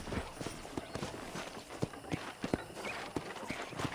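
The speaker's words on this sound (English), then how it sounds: "Okay, let's see if you can still ride a horse." Horse hooves clip-clopping in the Red Dead Redemption Remastered video game, a steady rhythmic walking gait of sharp, close knocks repeating throughout.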